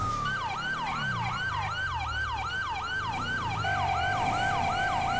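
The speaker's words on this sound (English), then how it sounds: "Also installed the new Wayland siren, by the way." A police cruiser's newly installed Wayland siren in the GTA video game wails in a fast, steady yelp cycle, loud and close, over a low engine rumble, with a second steady tone joining near the end.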